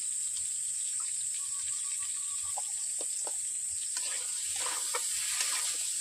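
Potatoes sizzling in a hot pan as they are stirred, a bright constant hiss with scattered scraping and clinking of the spoon against the pan, close and fairly quiet, no voices.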